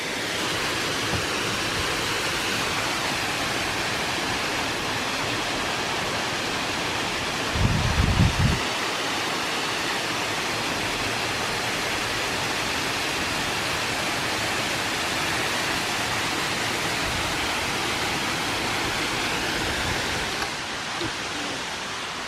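A waterfall at Bethel Springs Nature Preserve in Alabama roars as a steady, broad rushing wash of falling water, loud and continuous with only a brief thump partway through.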